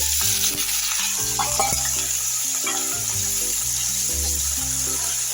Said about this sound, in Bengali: কড়াতে আমি আবার এই কলাগুলো টুকরোগুলো ভেজে নেব